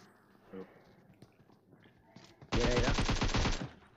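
A rapid burst of gunfire in PUBG Mobile played on an iPad, a loud close volley of about a second after quieter game sounds and faint movement.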